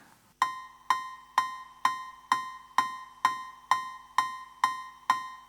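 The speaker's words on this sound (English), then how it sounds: "And then I finally got to use the cowbell." A cowbell in a drum mix strikes about a dozen evenly spaced, bright metallic hits, each with a short decaying ring, alone and close.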